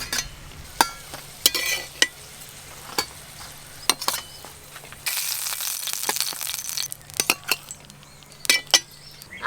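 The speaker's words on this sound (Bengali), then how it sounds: "এই দেখুন হালকা বাদামি করে মোমোগুলো আমি ভেজে নিয়েছি, এবার তুলে নেব" Momos fry in hot oil to a light brown, giving a steady sizzle broken by sharp clinks and scrapes of a utensil against the pan, close and fairly loud with no talking.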